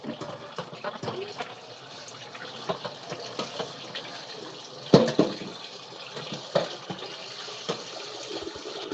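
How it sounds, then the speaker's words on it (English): Running water rinsing out a pan before frying egg rolls, a steady gushing splash with a few louder knocks and clatters, close by and continuous throughout. "You may want to rinse that bad boy out"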